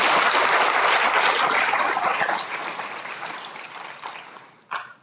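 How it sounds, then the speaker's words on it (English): An audience at a National Honor Society induction ceremony applauds a retiring advisor, full and steady at first and then gradually thinning out, with a sharp bump near the end. "I'd love to give her a round of applause for all of her."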